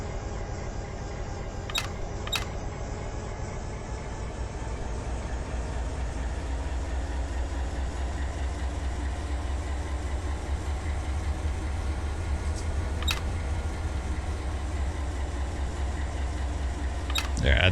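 A BNSF freight train rolling across the desert at about 70 mph in Run 8 Train Simulator, a steady low engine and rail rumble throughout with a few brief sharp clicks, while someone talks over it.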